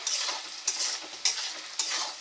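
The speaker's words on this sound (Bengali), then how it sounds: "দেখুন বন্ধুরা আমার পেঁয়াজ ভাজা হয়ে গেছে।" Onions sizzling in a pan while being stirred, bright crackling hiss with three or four distinct spatula scrapes at a regular pace, close and alone with no talking.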